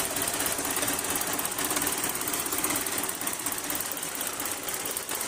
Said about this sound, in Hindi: रूसी ट्रैक्टर आया